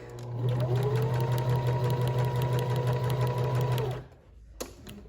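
A sewing machine runs steadily, stitching through fabric with a loud, continuous motor hum and needle chatter for about four seconds, then stops abruptly, leaving a brief quiet tap.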